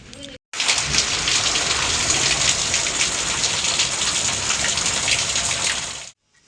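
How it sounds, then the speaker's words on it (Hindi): Heavy rain pours down steadily in a storm, a loud, dense hiss that stays constant for several seconds before cutting off abruptly. "और यह भी बारिश आ गया है, बहुत बेचाम बरखा नीचे।"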